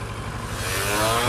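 Motorbike riding through London streets, its engine note rising steadily as it accelerates, loud and close with wind noise and no talk.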